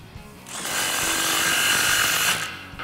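Power tool tightening an exhaust tip on a 2011-2014 Ford F150 with a 3.5L EcoBoost and dual exhaust, a single loud, steady whirring burst lasting about two seconds, up close.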